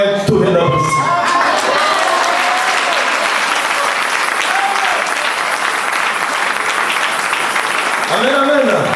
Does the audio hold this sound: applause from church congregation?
yes